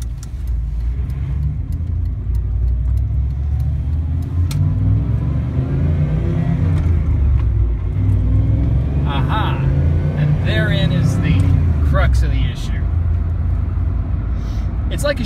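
A 1994 GMC Stepside pickup drives along a street above 20 mph, its engine a steady, loud low rumble that swells as it accelerates, with someone talking over it throughout.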